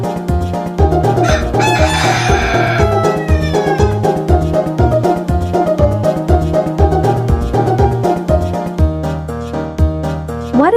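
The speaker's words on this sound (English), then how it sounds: "It's chicken." A rooster crows once early on, with clucking fowl sounds, set over steady, loud background music that runs throughout; no talking.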